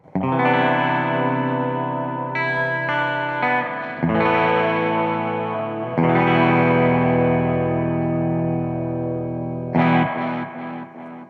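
Sustained electric guitar chords ring out with a wet, echoing, reverberant tone through a Space Echo tape echo with reverb, changing chords every couple of seconds.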